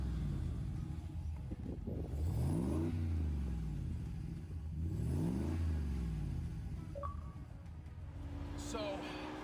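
A supercharged car engine heard from the exhaust at the rear rumbles steadily, rising in two strong revs with sweeping pitch before settling back to idle, close and loud, with a short whine near the end.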